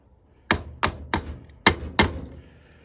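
2007 Chevrolet Avalanche power fold mirror cap tapped into place, five sharp plastic knocks at uneven intervals, close and distinct with no talk.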